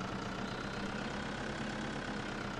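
Steady, continuous hum of a tractor engine idling in Farming Simulator 2013, even and unbroken throughout with no voices over it.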